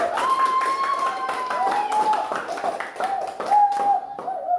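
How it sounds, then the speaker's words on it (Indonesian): A classroom claps for group 4, a quick patter of many small hands over a brief rhythmic stretch, with a voice talking over it. "Tepuk tangan untuk kelompok 4."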